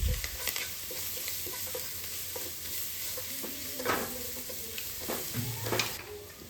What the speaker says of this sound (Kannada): ಚೆನ್ನಾಗಿ ಸಾಫ್ಟ್ ಆಗೋ ತನಕ ಇದನ್ನು ನಾನು ಚೆನ್ನಾಗಿ ಫ್ರೈ ಮಾಡ್ಕೋತೀನಿ